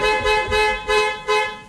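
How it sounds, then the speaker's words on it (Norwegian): A car horn sounds in four long, loud blasts with short gaps between them, close by and steady in pitch, with no talk over it. "tut vekk du, jeg flytter meg ikke her"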